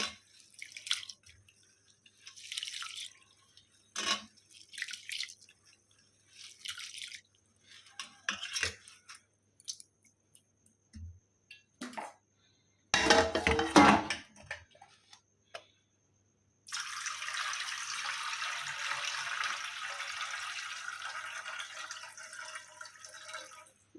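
Parboiled rice for paal paniyaram is washed in water, heard close up as scattered splashes, drips and stirring. It then gives way to a sustained rush of poured or running water.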